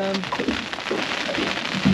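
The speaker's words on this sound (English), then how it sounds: "It just started to rain." Rain begins falling during a coastal fishing trip, a steady patter of drops close by for a couple of seconds.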